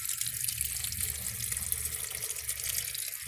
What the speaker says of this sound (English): I'll give it another flush and I'll hold the handle.